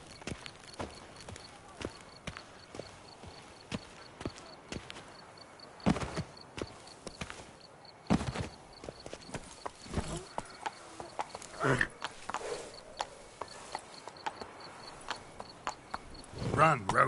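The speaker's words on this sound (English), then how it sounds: "Run, Roach" Horse hooves clip-clop at a steady running pace in The Witcher 3, with rhythmic thuds and occasional louder impacts over a continuous game ambience.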